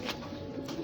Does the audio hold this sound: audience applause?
no